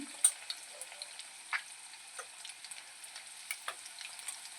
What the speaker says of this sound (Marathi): तर आपण पाहू शकतो अंडे फ्राय होत आहे